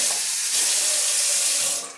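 Tap water pouring steadily into a cooking pot in a home kitchen, a loud, continuous close-up splashing rush that eases off at the very end.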